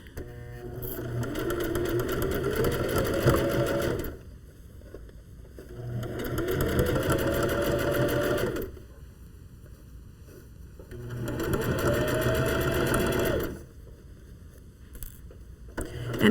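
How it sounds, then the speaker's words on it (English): A sewing machine stitches a narrow zigzag seam with a 3/8 inch allowance on an upcycled mitten, in three separate bursts of rapid mechanical whirring, each lasting a few seconds with short quiet pauses between. "So we're going to start stitching here 3/8 inch seam allowance again, and again on a narrow zig."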